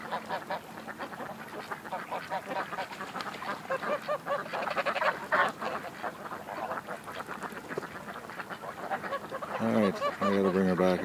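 Many ducks quack and honk in a dense, continuous chorus close by, growing louder and sharper near the end, with occasional speech mixed in.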